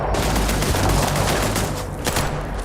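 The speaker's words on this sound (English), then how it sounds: "Who's shooting at me?" Rapid gunfire in the space game Starfield, a dense fusillade of loud, close shots rattling continuously with a few heavier bursts.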